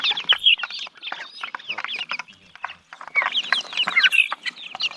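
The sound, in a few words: hen and rooster clucking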